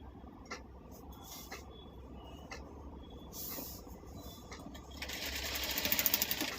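A sewing machine stitches a bag in steady runs of fast mechanical whirring, broken by short pauses and faint handling clicks, growing louder and denser toward the end.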